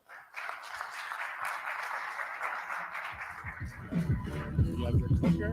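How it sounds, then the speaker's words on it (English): Applause from a conference audience fills the room steadily, then speech and handling noises come in over it near the end as a speaker takes the stage. "Let's give Chris a round of applause."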